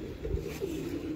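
Domestic pigeons kept by a bird fancier give soft, low cooing close by, a short murmuring call with faint background noise and no talking.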